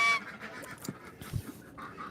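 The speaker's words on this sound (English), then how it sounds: "Oh no, I spooked the ducks," Startled ducks and geese flee a pond, with scattered honks and clucks and splashy flutters rising and falling at a moderate distance.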